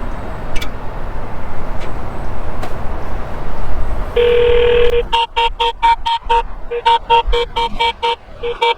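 An access phone is dialed: a steady tone gives way to a rapid series of short, clear keypad beeps, heard close over a background of outdoor traffic hum.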